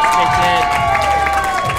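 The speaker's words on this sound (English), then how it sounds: "Awesome energy from the crowd here tonight." A crowd cheers and applauds at the Auckland weightlifting championships after a lift on the platform, a steady loud roar of voices and clapping with a commentator talking over it.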